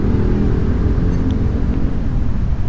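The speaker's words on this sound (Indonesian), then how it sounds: "itu ono truk pengangkut sampah." A garbage truck passes close on a narrow shortcut road in Malang, Indonesia, producing a loud, continuous low engine rumble that stays steady throughout.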